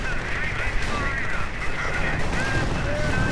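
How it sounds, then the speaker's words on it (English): Anti-tank gunfire in a World War II strategy game on the Eastern Front, Soviet forces against a German Panther tank, heard as a dense, steady battle din with scattered sharp reports mixed in. "Anti-tank gunfire hits."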